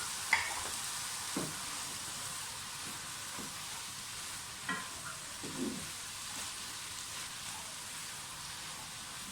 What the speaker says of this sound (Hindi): अब साथ ही इसमें कैप्सिकम डाल दें और टमाटर भी डाल दें। थोड़ा सा इनको भी फ्राई करूँगी।